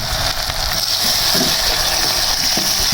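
Garlic ginger paste and onions frying in a pan for a Peshawari namkeen mash daal, a steady close sizzle and crackle that runs without a break and has no talk over it.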